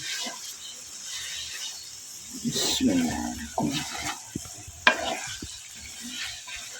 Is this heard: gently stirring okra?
yes